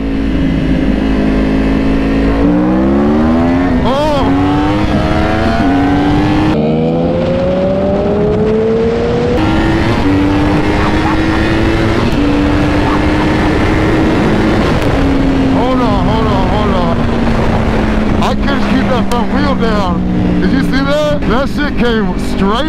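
A Yamaha R1 sportbike with a -1 sprocket change accelerates hard through the gears, its loud engine note climbing in repeated rising sweeps with brief drops at each shift, steady wind rush throughout and occasional voices under the roar.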